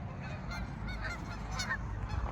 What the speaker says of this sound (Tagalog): Baka pagalitan tayo, na istorbo natin yung mga gansa.